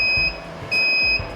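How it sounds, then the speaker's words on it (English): Two clear electronic beeps from a VacMaster PRO305 vacuum sealer signalling the end of its marinating cycle, each a steady tone of under half a second, spaced apart over a faint low hum. "Okay folks, you hear that beep?"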